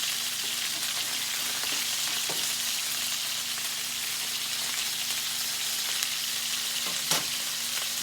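Beef tenderloin steak sizzles steadily in a hot pan, a continuous close hiss with faint crackles and a couple of soft clicks near the end, no talking.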